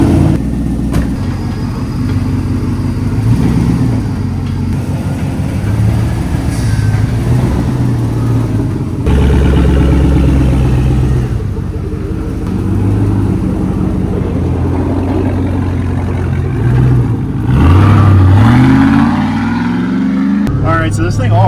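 A Hummer on 58-inch tires out on a road test drive, its engine rumbling steadily with deep low drone and some revving, loud and close throughout, with a person talking over it.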